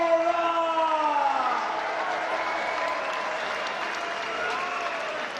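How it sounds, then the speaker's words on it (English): Boxing arena crowd applauding after a heavyweight bout in London, a broad, sustained roar of clapping and cheering with a tonal wail over it early on, fading slightly as it continues. "a round of applause for the gallant Malik Scott"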